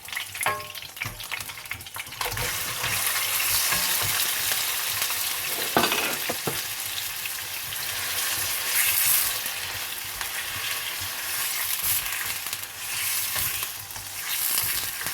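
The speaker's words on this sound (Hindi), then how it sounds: "अदरक लहसुन के पेस्ट को गोश्त के साथ इतना भूनूंगी कि गोश्त का थोड़ा सा कलर चेंज हो जाए।" Loud sizzling and crackling of mutton frying with ginger-garlic paste in a pan, with scraping stirs and a few sharp clinks of a utensil against metal.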